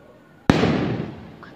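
A single loud firework bursts nearby with a sharp crack, then a long rumbling decay fading over the following second, with faint background voices.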